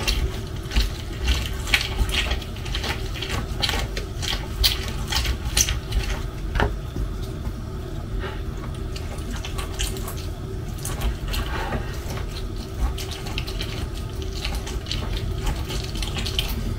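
A kitchen tap runs steadily into a sink while food is rinsed several times, a close continuous splashing hiss with faint clinks and handling noises and no speech.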